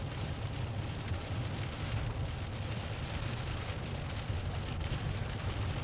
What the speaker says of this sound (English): it's great that Iowa and Minnesota are finally getting some rain